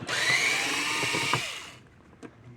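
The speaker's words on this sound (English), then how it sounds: "Let's take a special bit to pull these screws out." A power screwdriver bit whirs loudly while pulling screws from a badly damaged Gallagher M1000 electric fence energizer, one sustained buzzing run that stops abruptly, followed by a few faint handling clicks.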